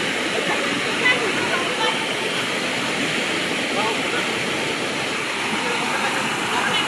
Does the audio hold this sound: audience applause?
no